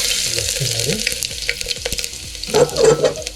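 Fenugreek seeds frying in hot oil for a sponge gourd curry, crackling and spluttering steadily, then bursting into a louder, denser sizzle near the end, with no voices.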